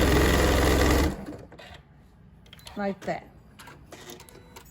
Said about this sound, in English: do is sew from corner to corner or from dot to dot.